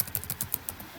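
Quick, light typing on a computer keyboard, a rapid run of close, crisp key clicks heard alone.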